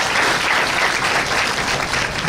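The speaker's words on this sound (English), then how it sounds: "Maybe have a round of applause for them." A hall full of parents and guardians applauding, a loud, dense, continuous wash of clapping with no gaps, close and filling the room.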